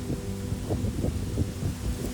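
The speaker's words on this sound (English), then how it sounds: "It is windy and cold." Wind buffeting a microphone outdoors on a cold hiking trail, a low rumbling gust noise that rises and falls unevenly throughout.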